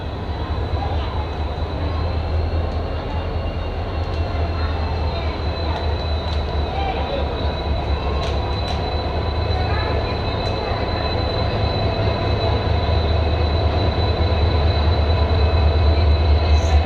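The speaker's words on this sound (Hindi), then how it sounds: "Let's hear final departure of Pune Amravati express from Purna junction." Pune–Amravati Express pulling out of Purna Junction, with a steady, loud rolling rumble of the coaches and wheels on the rails that holds throughout, plus faint squeals and clanks.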